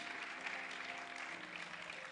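A church congregation claps at a wedding-style celebration, a dense, steady wash of applause lasting the whole brief moment with no gaps.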